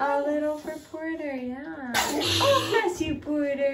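A baby sneezes once during bath time, a short sharp burst in the middle of the clip, with an adult talking softly before and after.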